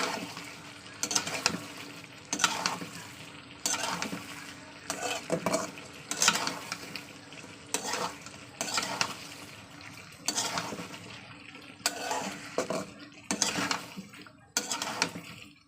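Snakehead fish sautéed with taro and potato in a pan: rhythmic bursts of spatula stirring and scraping recur about every second over a low, soft sizzle, close by with no talk.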